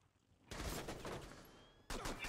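Gunfire in Rainbow Six Siege from a pistol used behind a shield, in two separate bursts of sharp, loud shots with a short gap between them, and no talking.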